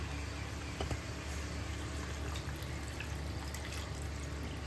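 Water is poured into a spicy crab masala in a pan, a steady soft trickling and liquid splashing that runs throughout, fairly faint over a constant background hiss.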